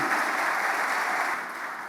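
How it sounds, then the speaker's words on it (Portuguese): A church congregation applauds in a dense, even wash of clapping that holds steady, then eases slightly toward the end. "Aplauda mesmo, porque vale muito a pena"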